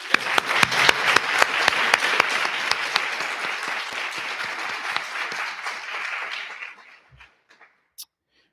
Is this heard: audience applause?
yes